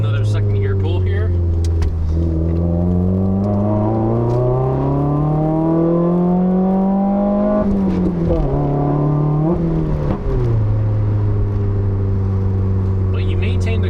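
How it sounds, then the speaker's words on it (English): A 2015 Subaru WRX engine pulls hard in second gear, its loud droning note climbing steadily, then dropping on the shift and climbing again from inside the car, with a voice talking over it. "Do another second gear pull here."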